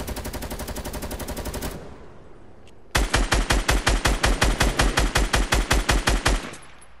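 Fortnite gunfire: a fast automatic burst runs for nearly two seconds, then after a short pause a second loud burst of evenly spaced, punchy shots follows, close and with no talking over it.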